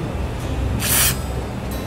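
WD-40 is sprayed from an aerosol can onto a rusty part, making a single loud hissing burst of about a third of a second amid quiet room background.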